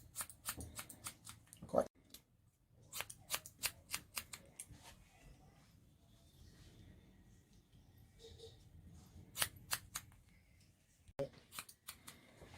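Scissors cut hair during a haircut in sharp, quick clusters of snips separated by pauses, close and crisp, with someone talking briefly.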